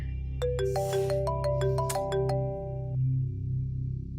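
A mobile phone ringtone plays as a short run of clear, bright melodic tones, several quick chiming notes in sequence, over a low steady background hum in a domestic setting.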